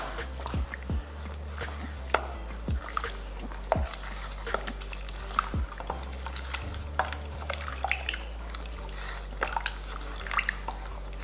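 A spoon stirs Indian burfee mixture in a pot, making repeated wet scrapes and sloshes in a steady rhythm over a low background hum.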